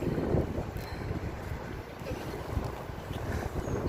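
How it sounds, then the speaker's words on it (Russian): Strong wind buffeting the microphone outdoors, a steady low roar with gusty swells throughout, no voices. "Ветер такой сильный."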